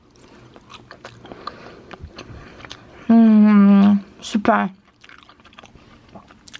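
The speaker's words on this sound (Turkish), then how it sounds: "Ya resmen şu an bayağı bildiğiniz tulumba tatlısı yedim yani." Tulumba dessert, a syrup-soaked fried pastry, is bitten and chewed close up in a few soft, moist crunches, with a brief hummed voice and a short spoken word from the eater.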